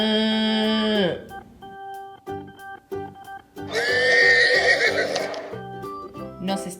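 A horse neighs loudly at the start, then hooves and stamping follow before a second long, shrill whinny rises over the noise.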